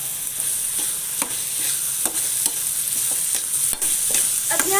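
Boiled mash dal with black pepper being stirred in a frying pan, a steady bright sizzle with repeated spoon scrapes and clicks in an irregular rhythm throughout.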